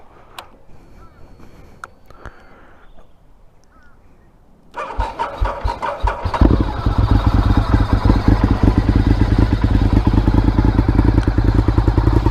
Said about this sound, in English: cold start and a walk around on my 2000 Honda RC51